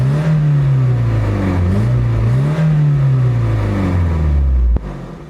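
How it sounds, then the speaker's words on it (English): Nissan S15 Silvia engine, loud and close, revving up and down in rising and falling sweeps before cutting off sharply near the end. "one of the better engine sounds I have ever heard in my life."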